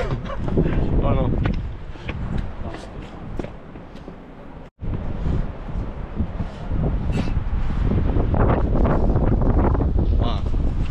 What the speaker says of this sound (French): Là, on sent du vent énorme.